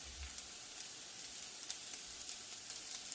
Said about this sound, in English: we're going to let these cook on this side, medium heat, for about 4 minutes